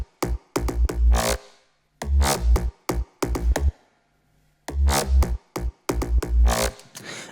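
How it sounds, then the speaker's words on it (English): Synth bass played without mid-side processing: short punchy plucked notes in a rhythmic pattern, with deep low end and clear gaps between phrases, loud and alone. "without the mid-side stuff, this bass sounds like this."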